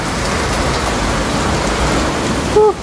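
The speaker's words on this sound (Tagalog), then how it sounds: "Hindi na tumigil ang ulan, napakahirap maggawa ng walang ulan." Steady heavy rain pours down outdoors while a Yamaha Force 155 motorcycle gets a handlebar and mini driving light fitting, a dense even hiss throughout, ending with a short high whine near the end.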